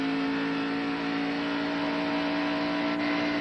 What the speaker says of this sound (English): Listen to him get on the throttle here.